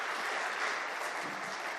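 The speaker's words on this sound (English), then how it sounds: "I would like just to maybe have a round of applause for all these distinguished panelists" Brief, steady applause at a UN DESA symposium plenary session as the audience claps for the panelists, moderately distant, with no speech over it.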